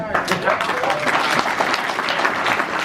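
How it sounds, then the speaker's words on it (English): Applause for event organizers at a civil-military installation gathering: a crowd claps loudly and continuously for about three seconds, with scattered voices and cheers mixed into the dense clatter. "round of applause for these folks"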